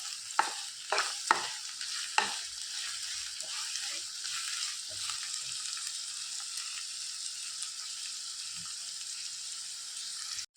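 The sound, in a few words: onion and garlic frying in a pan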